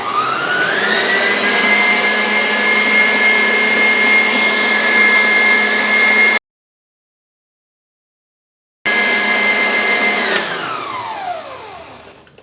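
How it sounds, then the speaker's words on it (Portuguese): A stand mixer beats powdered-milk frosting with a loud, steady motor whine that runs for several seconds, cuts out briefly, resumes, then winds down as the beaters slow to a stop. "Daqui a pouco eu pararei de bater para poder tirar o excesso, às vezes, de leite em pó que fica na lateral da batedeira."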